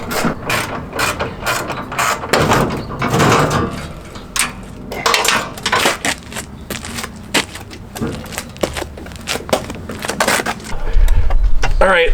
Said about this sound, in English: All right, let's start wrenching.